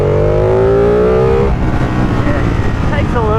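Ducati Panigale 959 Corse motorcycle from 2018 accelerating hard in second gear, a loud rising engine note that climbs steadily and then drops at a shift, heard close up with steady wind and road roar.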